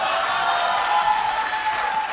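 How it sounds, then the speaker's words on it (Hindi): Studio audience applause on a Pakistani morning talk show, a steady, dense wash of clapping that stays loud and even throughout, with a faint tonal hum running underneath. "तालियां।"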